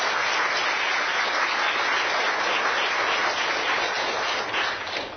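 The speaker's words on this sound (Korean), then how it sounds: "오늘 밤늦은 시간까지 정열적인 강의를 해주신 황희안 원장님께 큰 박수 부탁드리겠습니다" An audience bursts into sustained applause after an evening lecture on dementia, a dense and even roar of many hands clapping that holds steady and tapers slightly at the end, with no talking.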